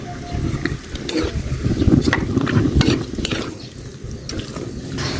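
Onions or aromatics sautéing in oil over medium heat until golden brown: a soft continuous sizzle with intermittent clinks and scrapes of a spatula stirring the pan, close by and with no voices.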